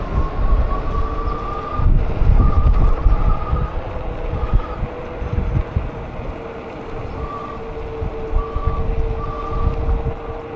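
A forklift sounds high reversing beeps in short repeated bursts, at moderate distance, under a heavy, uneven rumble from a passing e-bike ride.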